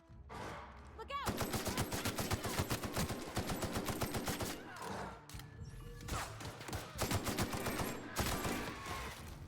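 Rapid gunfire in the video game The Outer Worlds, dense repeated shots in sustained bursts with brief pauses, fairly close and steady throughout.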